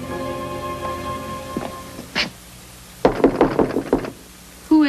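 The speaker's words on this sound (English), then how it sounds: "I knew I tapped the right door." A few sharp knocks on a door, then a quick burst of several raps, heard alone in a quiet room with a low background hum.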